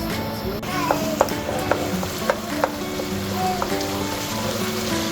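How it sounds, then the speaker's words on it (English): Steady sizzling and crackling of tomatoes frying in a pot for jollof rice, with occasional soft clicks and scrapes of stirring, no voices. "Now frying the tomatoes."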